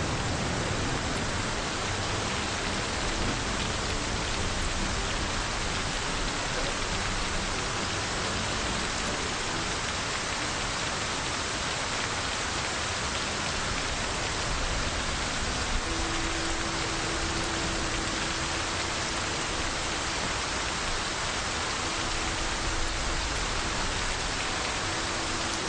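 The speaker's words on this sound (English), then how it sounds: "Rain is even louder than snow." Steady rain pours in the Project Zomboid video game, a dense, unbroken hiss that stays loud and even throughout with a faint low hum joining partway.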